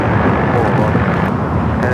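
Airbus A330neo pushing back at Los Angeles airport, a loud steady jet engine roar with wind noise, continuous and close throughout.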